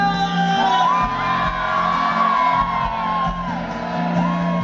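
A crowd at an outdoor verbena dance in Lugo shouts and whoops together in sustained, rising yells, loud and near over a steady low musical hum.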